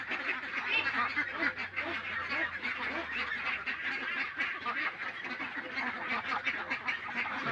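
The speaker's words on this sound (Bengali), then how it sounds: "তাই হাঁসগুলা আমরা গুনতি দেই ডেলি।" A flock of ducks quacks continuously and densely at close range as they are counted, a busy overlapping chorus with a steady, unbroken rhythm.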